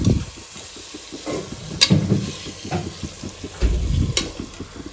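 Chicken fry for biryani sizzles in a pan, close and steady, with repeated scraping and stirring strokes over the frying noise and no talking.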